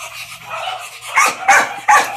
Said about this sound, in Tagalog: Ito naman ang pinakamatagal kong aso.